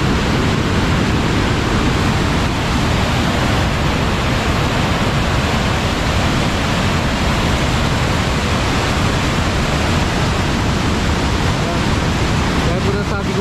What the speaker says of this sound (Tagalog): tingnan niyo po kung gano'ng kalakas ang agos ng tubig.